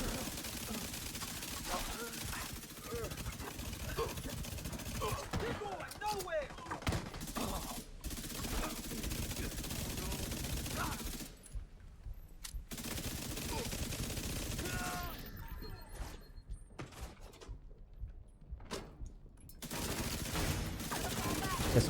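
A machine gun with a roughly 80-round magazine fires in long, repeated bursts during a Division 2 gunfight, loud and rapid, broken by short pauses, with someone talking over much of the shooting.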